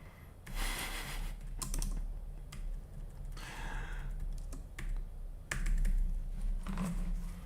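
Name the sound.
typing on a computer keyboard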